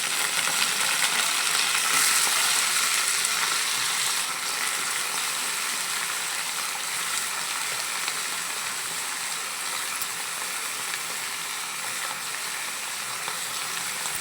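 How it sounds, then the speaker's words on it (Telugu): Eggplant pieces sizzle and fry steadily in hot oil for a dry fish and eggplant curry, a continuous close, fairly loud crackling hiss with no talking. "ఇప్పుడైతే వంకాయ ముక్కలు అనేది వేస్తున్నాను."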